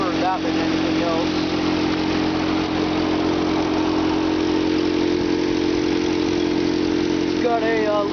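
A Toyota Hilux engine with a choke knob and a small exhaust leak idles steadily up close, a loud, even rumble with a faint chirping ticking sound near the start and end.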